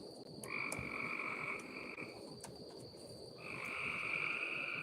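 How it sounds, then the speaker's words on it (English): Outdoors, two frogs croak in a steady ongoing chorus of high, trilling calls that come in long bursts with short gaps, set against a soft buzzing night background. "It sounds like two frogs over there"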